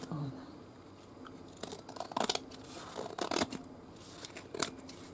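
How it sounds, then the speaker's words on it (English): Scissors trim along a fabric edge while making a pin cushion, a few close, crisp snips in quick bursts with faint rustling between them and no speech. "let me just trim that up a bit along that edge"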